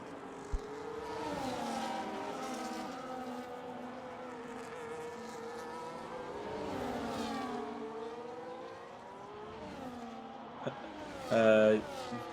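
Race cars in a sim racing game at the Netherlands round go past in rising and falling waves of engine whine, with a commentator talking over them and a short harsh burst near the end.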